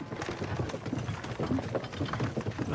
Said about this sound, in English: Can't you make the horses go a little faster, Grandpa?